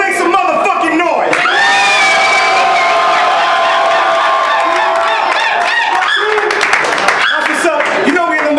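Crowd at a rap battle anniversary event in Tucson roaring, cheering and shouting loudly throughout, with whoops and claps layered over a dense wall of voices.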